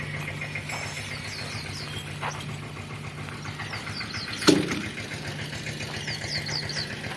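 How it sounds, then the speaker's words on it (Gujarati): A tractor engine idles steadily on a farm with a low, even rumble throughout, while birds chirp faintly in the background and a brief thud sounds midway. "અને ટ્રેક્ટરે આવી ગયો"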